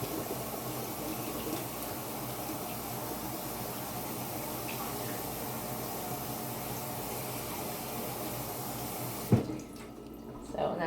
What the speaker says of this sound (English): I'm just using a bowl of water in my sink